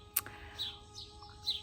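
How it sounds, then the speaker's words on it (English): Birds chirping outdoors, a few brief tweets spaced apart, faint and somewhat distant over a quiet background. "just listen to the birds. They're really trying to come through."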